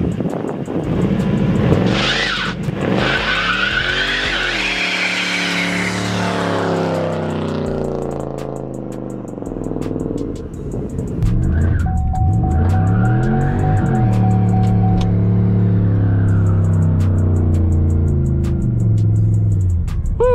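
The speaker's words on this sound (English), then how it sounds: "Haven't done a burnout on this thing all year pretty much." A cammed 2006 Monte Carlo SS roars through a burnout, its engine revving loud and close with screeching tire noise, holding steady for about twenty seconds.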